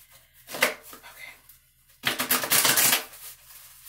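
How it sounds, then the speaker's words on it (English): Playing cards riffled and shuffled by hand during a tarot reading, two bursts of crisp papery clatter, the second louder and longer, close to the microphone with no talking. "Shuffle one more time. I did shuffle"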